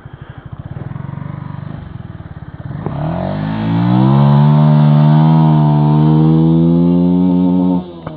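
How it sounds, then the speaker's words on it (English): A motorcycle engine idles with a rapid pulsing beat, then revs hard and holds steady at the rev limiter for several seconds, loud and close, before dropping off abruptly. "Rev limiter."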